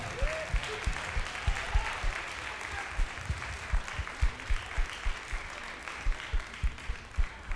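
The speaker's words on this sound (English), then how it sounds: "Come on and give them a round of applause." An audience at a Sabbath evening concert applauds a cappella singers from Alabama A&M, a sustained wash of clapping with rhythmic accented beats running throughout, with faint voices underneath.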